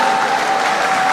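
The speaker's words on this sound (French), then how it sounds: "Est-ce qu'on peut bien applaudir pour la Grande Orientale?" A packed hall at a party congress in Kinshasa bursts into loud, dense crowd applause, a continuous roar of clapping with no pauses.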